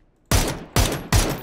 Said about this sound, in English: Why are they shooting a panzer at our building now?